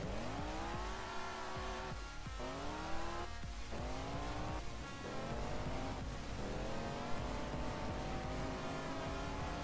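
Motorcycle engine in BeamNG.drive whines and revs in repeated rising sweeps, cutting out and climbing again as the bike wobbles, loud and continuous with no talk over it.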